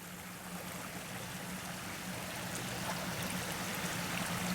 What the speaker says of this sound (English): The waters of Frog Creek. Flowing strongly.